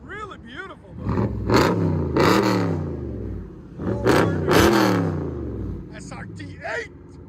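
A Chrysler 300 SRT8 V8 engine revs loudly in two strong, rising bursts close by, settling between them, with people talking over and around the revs.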